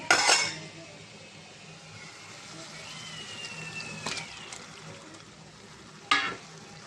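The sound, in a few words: stirring chicken into masala in a pan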